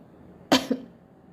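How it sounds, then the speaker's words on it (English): A single sharp cough bursts out, followed by a softer second hack, close by against a quiet background. "I heard a sound of someone coughing."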